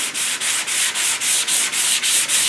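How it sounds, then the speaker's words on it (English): Hand block sanding on a 1969 Mustang fender during body work: steady, loud rasping strokes repeat in an even rhythm, about four per second, each rub separated by a brief pause. "This is the same way you do block sanding"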